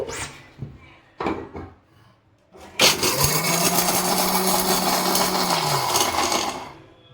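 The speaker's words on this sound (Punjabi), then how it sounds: "ਜਿਹੜੇ ਕਾਜੂ ਬਦਾਮ ਹੁਣ ਆਪਾਂ ਇਹਨਾਂ ਨੂੰ ਚੱਲੇ ਗ੍ਰੈਂਡ ਕਰਨ" Cashews and almonds crack and rattle as a mixer grinder pulses twice in short bursts, then whirs loudly and steadily for about four seconds before winding down, close by with no talking.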